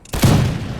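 A single loud, close musket volley in the Imperial Splendour mod of a strategy war game, a sharp crackling blast of many muskets firing together that rolls into a dense, fading rumble.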